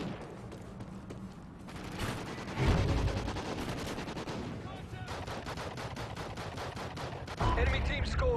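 Rapid automatic gunfire rattles close and loud in a Call of Duty: Ghosts multiplayer match, with bursts of shots, heavy booms and brief voice callouts mixed into the dense combat noise.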